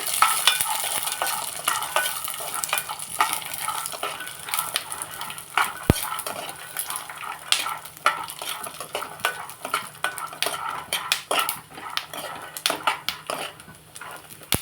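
Garlic and other ingredients for a Hyderabad-style idli chutney frying in a pan, with a dense continuous sizzle and steady, rapid spatula scraping and clinking throughout, close and busy, no talking.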